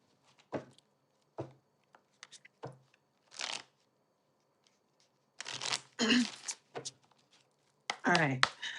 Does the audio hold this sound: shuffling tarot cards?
yes